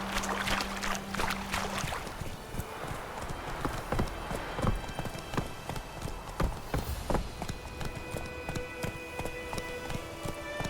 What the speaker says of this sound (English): let's hop back on Roach and follow the path to the White Orchard.